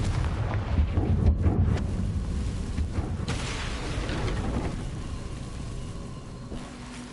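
A Confringo fire spell blasts in Hogwarts Legacy, played on PS5: a loud booming burst of explosive rumble early on, then a second surge, trailing into a sustained roar that gradually fades.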